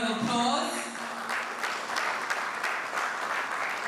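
An audience at a Polaris Bank product unveiling applauds a recognized guest, a burst of clapping that rises after a brief spoken introduction and continues steadily at moderate volume.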